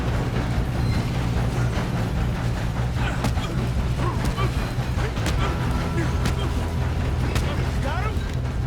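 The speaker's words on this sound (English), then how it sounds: "We have to stop this train." A moving train rumbles along in Red Dead Redemption 2, a steady loud clattering roar with scattered metallic clanks and squeals running throughout, while voices talk over it.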